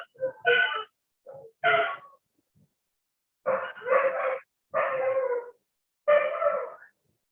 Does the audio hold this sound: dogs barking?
yes